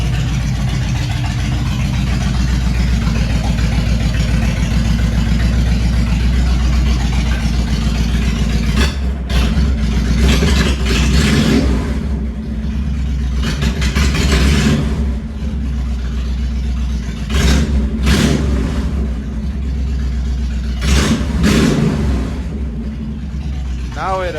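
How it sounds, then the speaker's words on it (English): A carbureted motorcycle engine idles steadily outdoors in cold weather while warming up, its low rumble continuous and close, with a few brief louder swells where the throttle is blipped. "the bike definitely likes to warm up real good before being smooth with the throttle"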